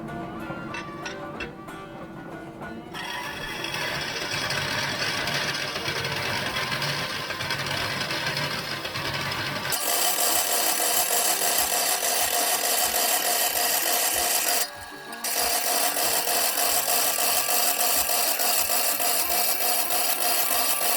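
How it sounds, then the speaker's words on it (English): A 14-inch vertical bandsaw cuts a metal bracket for a Jeep with a continuous loud grinding rasp, changing in tone partway through, pausing briefly near the end, then carrying on with rhythmic low pulses. "I'm going to go ahead and throw it in the bandsaw"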